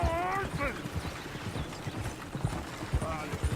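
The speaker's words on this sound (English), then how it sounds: "Oh, shit, the horses!" Horses in the Red Dead video game clip-clop steadily on the ground, with a couple of whinnying neighs at the start and end, mixed under a voice.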